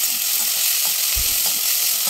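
Tamarind leaves fry in a pan with a steady, close hiss of sizzling oil and a soft stirring scrape partway through.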